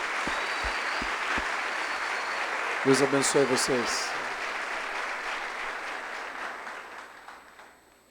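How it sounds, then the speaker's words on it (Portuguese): A church congregation applauds steadily through the whole stretch, a dense wash of clapping that fades toward the end, while a preacher's voice speaks briefly over it and a short musical chord sounds midway. "A igreja pode aplaudir essas mulheres."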